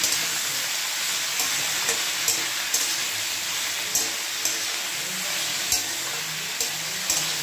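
Cauliflower sizzles in hot oil in a pan for a Bengali vegetarian curry, a steady broadband frying hiss with occasional light crackles and stirring clicks, close and continuous with no talking.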